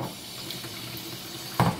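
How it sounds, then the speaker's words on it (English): Tap water running from a faucet, drawn for mixing hand-feeding formula for baby cockatiels: a soft, steady trickle with a short louder gush near the end, close and quiet. "Now what I do is I use tap water."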